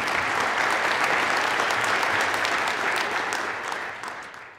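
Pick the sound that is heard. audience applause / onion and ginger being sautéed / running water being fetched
audience applause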